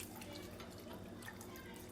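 Water poured into a pot of thickening hamburger-meat gravy for Salisbury steak, a continuous splashing and trickling stream heard close up for a couple of seconds.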